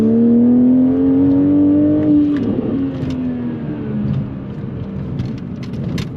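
A BMW X5 engine accelerates in sport mode, a steady rising drone that climbs in pitch over the first two seconds, then settles into a loud, even hum with road noise underneath.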